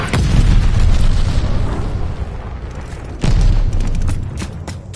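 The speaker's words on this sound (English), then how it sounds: "enemy glide bomb coming in hot" Video game glide bomb explosion: a loud, deep boom with sustained rumbling, then a second heavy blast about three seconds in, with crackling debris trailing off. No talking.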